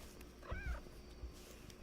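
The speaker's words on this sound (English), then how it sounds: "Meow. Meow." A house cat meows at close range, a short rising-and-falling call in a quiet room, followed by a softer small vocal sound.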